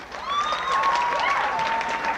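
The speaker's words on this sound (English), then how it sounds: "Give yourselves a hand" A high school talent show crowd gives sustained applause in 1992, a steady wash of clapping with whistles rising and falling over it.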